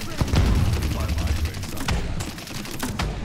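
Tyra's bazooka fires in the Paladins video game, giving rapid, loud bursts of explosive shots with sharp cracks that keep coming for a few seconds.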